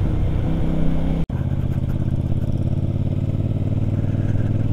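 A CFMoto motorcycle engine runs steadily while the bike is ridden, a low mid-pitched drone with a brief dropout near the start before the hum carries on evenly.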